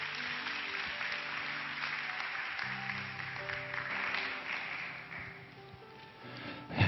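Church congregation applauding at an evening worship service, steady sustained clapping from a large crowd that fades slightly toward the end.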